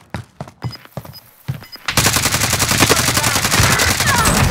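Incoming gunfire in a Call of Duty match: a few sharp isolated shots, then a loud, continuous stream of rapid automatic fire at close range that keeps on to the end.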